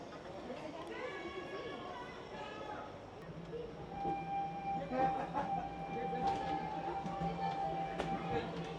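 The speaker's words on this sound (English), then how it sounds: "I always tend to over dramatize how long that train ride actually is." A train ride at Animal Kingdom in Walt Disney World clatters and rumbles along steadily, with a faint whistle-like tone and occasional clanks, as people talk throughout.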